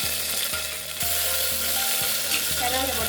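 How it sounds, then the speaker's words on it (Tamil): Fennel and mustard seeds splutter in hot oil for tomato rice, a close, continuous sizzle with crackling pops over a steady rhythmic beat of background music. "சோம்பு கடுகு ஊற்றி நல்லா பொரிய விடணும்"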